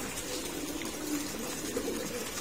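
Male racing pigeons coo steadily after being let out of their loft, a dense low murmur of many birds together under a constant wash of background noise.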